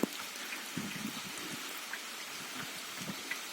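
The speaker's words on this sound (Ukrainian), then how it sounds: "Дощить у нас останнім часом." Steady rain falls outside, giving a soft, even hiss with scattered faint drops and occasional quiet knocks.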